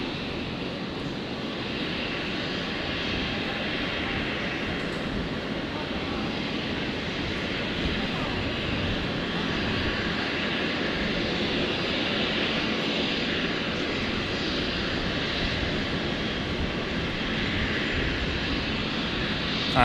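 A Jetstar Airbus A320 begins its takeoff roll on runway 01 right at Brisbane airport, a sustained jet engine roar that holds steady and slowly swells over twenty seconds, heard from a distance without speech.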